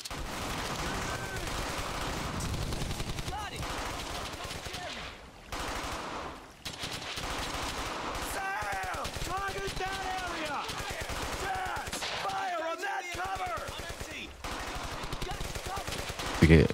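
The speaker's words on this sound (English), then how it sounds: "Getting shot at." Sustained machine-gun and rifle fire from the World War II game Brothers in Arms: Hell's Highway, continuous rattling volleys with a few short pauses, loud and close, with someone talking over it.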